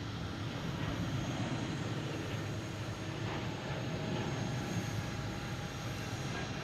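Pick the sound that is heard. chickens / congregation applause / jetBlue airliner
jetBlue airliner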